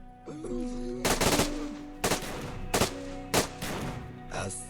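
Gunfire in DayZ's STALKER multiplayer mod: four or five sharp, loud single shots ring out at irregular intervals over a steady ambient hum.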